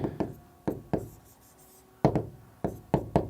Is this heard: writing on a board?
yes